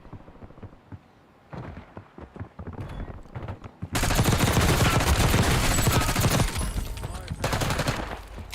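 Rapid video game gunfire in a test stream, sparse single shots at first, then a loud sustained burst of automatic fire that carries on with brief gaps to the end.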